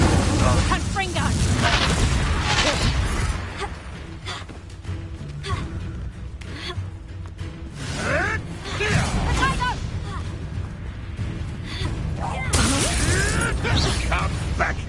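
Repeated fiery blast spells explode in Hogwarts Legacy combat, loud booming bursts and whooshes recurring over roughly fifteen seconds amid clattering mechanical effects, with a player voice calling out between them.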